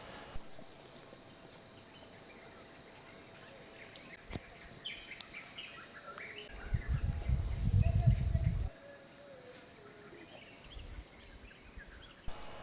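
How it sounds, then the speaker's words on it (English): Steady crickets shrill continuously through crater-rim rainforest in Uganda, with scattered bird calls weaving in and out and a brief low rumble midway; no voices. "Impressive is the background noise. Crickets, birds, and occasionally you can hear the call of a colobus monkey."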